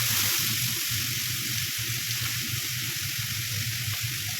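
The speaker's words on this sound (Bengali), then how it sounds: "একটা ফোড়ন দিলাম কালো জিরা, একটা ফোড়ন দিলাম গোটা দিয়ে" Nigella seeds and whole spices tempering in hot oil give a steady, continuous sizzle with a low hum beneath, close and moderately loud throughout, with no talking.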